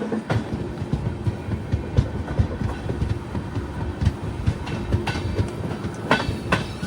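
A locomotive couples onto a train at Nagapattinam Junction amid a continuous rumble of rail cars, with repeated clanks and knocks sounding close and fairly loud, no voices.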